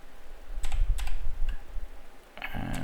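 Short bursts of keystrokes on a computer keyboard while setting up Mosquitto MQTT broker on Windows, clustered taps around a second in, with a faint quiet stretch then a denser run of clicks near the end, close and moderately loud.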